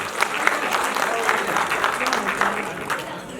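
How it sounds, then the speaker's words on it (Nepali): An audience at a Nepali film premiere claps in a dense, sustained burst of applause close by. It holds steady across the whole stretch with a few louder claps. "एकचोटि जोरदार ताली प्रकाशका लागि।"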